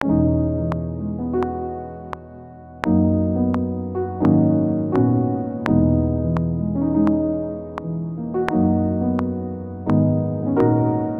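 Piano plays a slow melody over sustained chords, each new chord struck clearly with ringing notes in between, alone with no voices.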